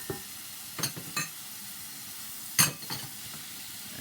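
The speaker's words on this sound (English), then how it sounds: "what we're going to do is we're going to throw in our onions" Chopped onions added to browning ground beef in a pan for chili con carne, giving a soft steady sizzle with a few sharper scraping stir strokes, close by and without talk.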